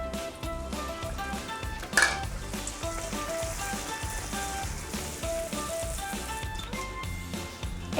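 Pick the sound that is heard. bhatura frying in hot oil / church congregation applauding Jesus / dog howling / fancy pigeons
bhatura frying in hot oil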